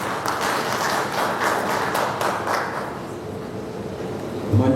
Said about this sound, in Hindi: जोरदार ताली सुन लिए।